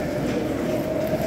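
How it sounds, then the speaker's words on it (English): A train rolls past in a rail station on a trip to Belgrade, Serbia, giving a steady, loud, close rumble and rattle of wagons throughout with no voices. "there's a train."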